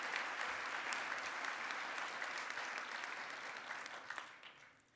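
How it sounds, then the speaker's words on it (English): A conference crowd claps steadily for award winners, a dense wash of applause that slowly thins and fades out toward the end. "Let's have a really big round of applause for all of the award winners today"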